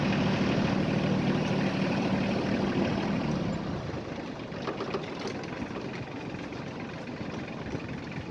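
A small Iseki TK25 25-horsepower Japanese mini tractor engine runs steadily and loudly with a constant droning rumble, easing slightly in level partway through as the tractor moves along at 10-12 km/h.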